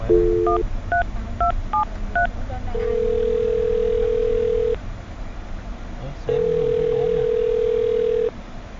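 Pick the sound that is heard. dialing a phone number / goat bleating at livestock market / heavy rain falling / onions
dialing a phone number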